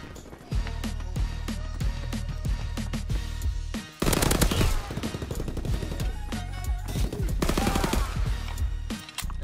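Dense automatic gunfire from Call of Duty: WWII, an M38 firing rapid bursts that stop for a brief reload pause before a louder, fuller stretch of sustained shooting, all close and loud.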